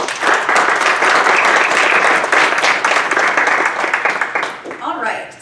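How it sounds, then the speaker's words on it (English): Audience applause for the panelists at an event on veterans finding meaning after armed service, a loud, sustained roar of many hands clapping that tapers near the end as a voice begins. "join me once again in a round of applause for our panelists"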